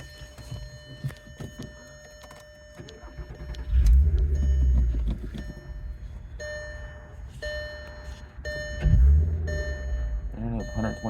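A 2004 VW R32 with a Borla exhaust and K&N intake fires up with a loud engine surge, settles to an idle, then revs sharply again, with repeated electronic beeps and people talking over it.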